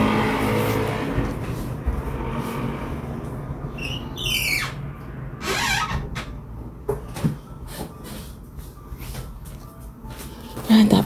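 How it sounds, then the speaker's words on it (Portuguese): Cars pass loudly outside a window, their engines swelling and fading in waves behind someone speaking indoors, with a few knocks and squeaks nearby. "Tá passando os carros com muito barulho."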